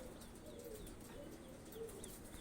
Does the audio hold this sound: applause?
no